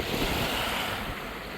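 Surf washing onto a Lake Erie beach, a continuous broad rush of breaking water mixed with wind buffeting the microphone, brief and fairly loud with no voices.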